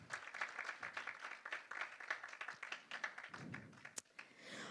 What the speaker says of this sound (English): let's get another round of applause for them